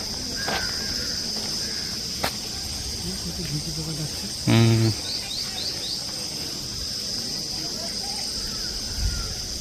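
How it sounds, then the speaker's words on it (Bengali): Crickets in the Sundarban mangrove forest keep up a steady high chirring drone throughout, with a short louder burst of calls midway and faint scattered sounds beneath. "ওদিকে ঝিঝি পোকা"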